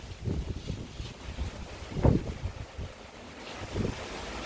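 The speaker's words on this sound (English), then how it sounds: "Windy, windy, windy." Gusty wind buffets the microphone with low rumbling blasts, one stronger gust midway, and a steady airy rush throughout.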